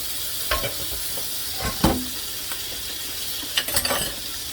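Browned sausage dropped back into a hot frying pan, hissing in a steady sizzle with a few clinks and stirring scrapes close by, and no one talking.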